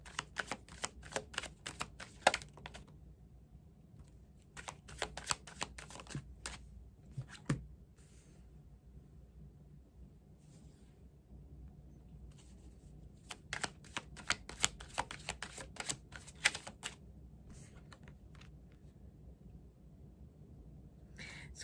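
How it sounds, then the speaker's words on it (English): A tarot deck is shuffled by hand in repeated bursts of crisp riffling and flicking, with cards flying loose, all up close over a low steady room hum. "Crazy how these cards fly out."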